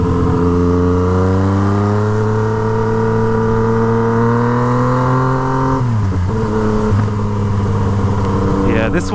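A Yamaha MT-09 with a straight-pipe Toce exhaust drones loud and steady close by, its pitch sagging as the throttle rolls off, with sharp crackling pops near the end.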